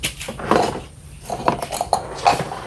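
Metal cooking pan (kawali) being handled in a home kitchen, with several clinks and clanks of cookware and cutlery at close range, irregular and fairly loud.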